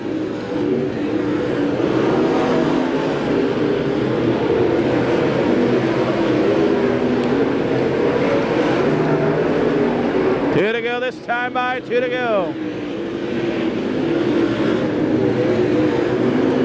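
Non-wing sprint cars race around the top of a dirt track at Farmer City Raceway, engines roaring steadily throughout with one car passing close and loud near the end, under continuous announcer commentary.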